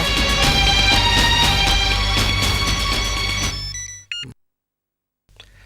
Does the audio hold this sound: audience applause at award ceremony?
no